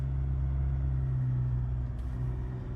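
A 2023 Ford Ranger Sport drives across beach sand, its engine a steady low rumble that stays loud and continuous throughout, with a brief faint hiss near the end.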